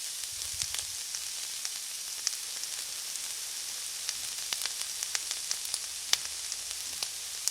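Washed minced meat hits a hot pan for a potato, keema and pea curry, giving a steady frying hiss scattered with small crackles and pops.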